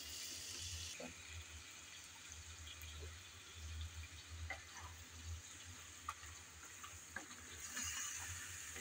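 Spices fry in a pan while being stirred, giving a faint, steady hiss with occasional soft scrapes and taps, quiet and close with no voices.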